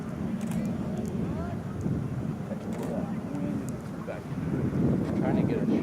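Wind blowing across an open field while a Radian model glider flies, a rough low rumble of gusts hitting the microphone, steady and fairly loud, with faint voices under it.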